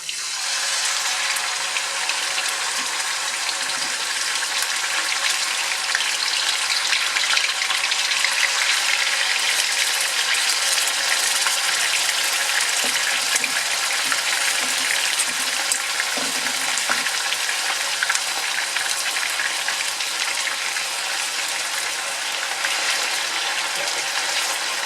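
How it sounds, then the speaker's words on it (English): A pork chop sizzles in hot oil, a loud, continuous crackling hiss that holds steady throughout, close up with no talking. "the minute we put this pork chop, it will go ahead and sizzle right away"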